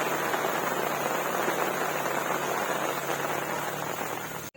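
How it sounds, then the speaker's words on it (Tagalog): Heavy rain pours steadily at a beach, a dense, continuous hiss of drops on surfaces that stays loud and even throughout, with no voices. "Kinulan na kami, lakas ng ulan."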